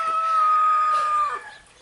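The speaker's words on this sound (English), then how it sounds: "Thank you, Mr. Rooster." A rooster crows once, loud and close, one drawn-out call that cuts off sharply in a rural Texas badlands setting.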